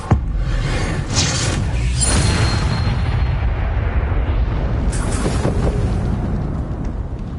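The Incendio fire spell cast in Hogwarts Legacy, a sudden whooshing burst of flame followed by a roaring, crackling rumble that fades slowly, with a second flare partway through.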